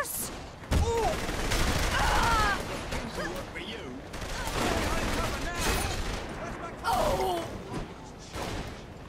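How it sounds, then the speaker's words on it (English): Gunfire in the video game Saints Row: The Third Remastered, a dense fusillade of rapid shots with bursts from several weapons, mixed with game voices and shouting. "Just shoot them, Pierce!"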